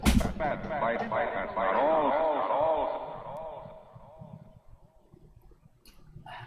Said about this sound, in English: then I'm going to add some echo